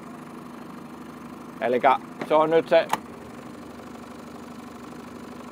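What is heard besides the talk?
Evinrude E-tec 50 hp outboard engine idling in gear on Yamarin boat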